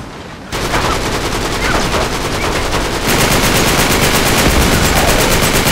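Sustained automatic gunfire from the video game Uncharted 3, a dense, loud, continuous rattle of rapid shots that intensifies after a brief quiet start.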